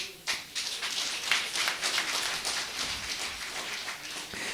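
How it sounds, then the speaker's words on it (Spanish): A congregation claps hands for Jesus at an Andean evangelical church service in Lircay, Huancavelica, a dense, rapid run of overlapping claps sounding steadily throughout, fairly close and loud. "Dale palmas a Jesús"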